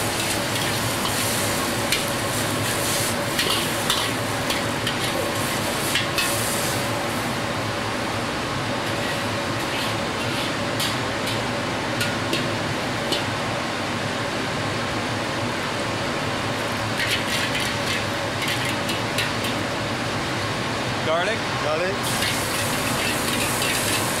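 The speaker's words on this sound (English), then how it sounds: "In goes the char gui tiao. At this point, you just get it hot so it's ready to serve." Char kway teow noodles frying in a hot wok, a loud continuous hiss and crackle of sizzling with stirring and clanking throughout, close and dense, with people talking faintly underneath.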